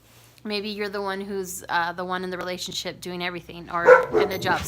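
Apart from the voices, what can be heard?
dog barking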